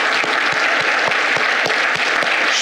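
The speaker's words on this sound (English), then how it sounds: "Clap your hands." A church congregation claps together at a Veterans Day service, loud, rhythmic handclaps in a steady beat filling the room without pause.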